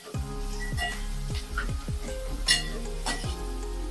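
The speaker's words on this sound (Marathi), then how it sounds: "हिरव्या मिरच्या फुल गॅसवरती आपण 1 ते 2 मिनिटांसाठी व्यवस्थित परतून घेऊया" Green chillies sauté over a full flame in a pan, with a crackling sizzle broken by repeated metallic clinks and scrapes of a spatula.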